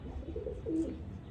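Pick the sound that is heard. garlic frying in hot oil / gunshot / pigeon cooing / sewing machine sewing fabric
pigeon cooing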